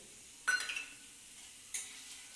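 Ginger, onion and garlic paste drops into hot oil in a pan, giving a short sizzling burst. A second, softer sizzle follows a moment later, quiet and close.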